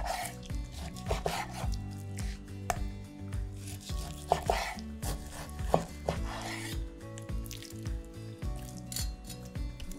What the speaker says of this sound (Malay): Potong pada cube yang besar